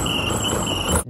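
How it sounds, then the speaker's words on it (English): Cheap clip-on turbo exhaust whistle fitted to a Ram 1500 pickup, giving a steady high-pitched whine over a rumbling engine and exhaust, loud and close, cutting off sharply at the end. "definitely go and pick you up a little clip-on turbo exhaust whistle"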